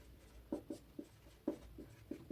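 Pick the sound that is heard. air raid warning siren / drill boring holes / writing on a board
writing on a board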